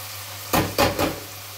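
Rosemary dropped into hot fat in a pan, three short bursts of sizzling spitting up over a quiet low hum, close and fairly loud, with a brief pause between each burst.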